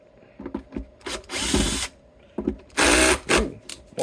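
Bosch power drill driving screws out of the neck of a vintage 1960s Silvertone 1446 guitar, short close whirring bursts with quiet pauses and clicks between them.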